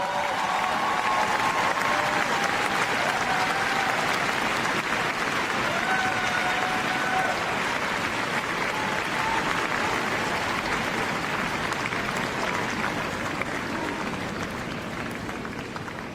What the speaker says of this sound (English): Should we give them one more round of applause?